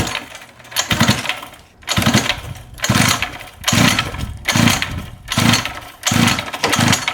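Junkyard pocket bike engine cranked by pull start: six or seven rhythmic pulls, each a rough mechanical rasp with a low thump, evenly spaced and close, with no catch or running engine.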